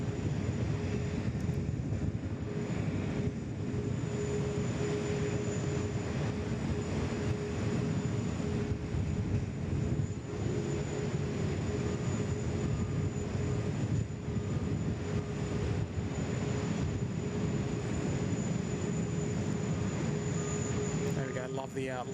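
A Qantas airliner taxiing at Sydney Airport makes a continuous loud jet engine roar with a steady high whine, heard at close range across the whole stretch.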